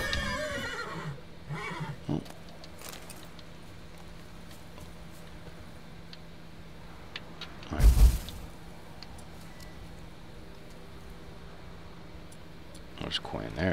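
A horse in the game Witcher 3 gives a short, loud whinny against quiet game ambience, with a few faint ticks and clip-clops scattered before and after it.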